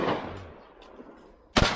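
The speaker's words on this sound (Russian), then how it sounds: "Спокойней стреляй, выше стволы держи." A single loud MP-155 shotgun blast near the end, sharp and close, after a stretch of quiet outdoor background.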